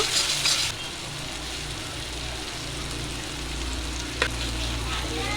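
Spices with salt, turmeric and chilli powder frying in a pan before mustard paste goes in for a soybean and pumpkin dish: a steady close sizzle with a brief loud burst at the start and one sharp scrape later, with no talk.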